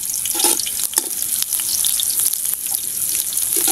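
Garlic sautéing in hot oil in a pan for native chicken arroz caldo, a bright, constant sizzle close up with a few soft stirring taps.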